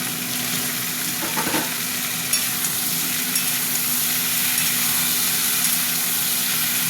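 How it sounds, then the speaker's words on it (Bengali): Chopped tomatoes fry with potatoes and peas in a wok, a steady close sizzle broken by scraping stirs and a few sharp utensil clicks; no one talks. "টমেটো দিয়েও ভাজবো,"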